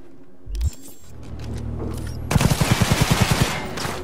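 A Sidewinder gun fires in the video game Cyberpunk 2077, a fast, evenly spaced run of loud, punchy shots following a brief mechanical handling sound, with no talk.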